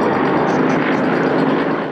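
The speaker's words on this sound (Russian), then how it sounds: "Над зрителями пролетел весь парк аэроклуба." An ultralight aircraft flies overhead at an air show, its engine a loud, steady drone throughout.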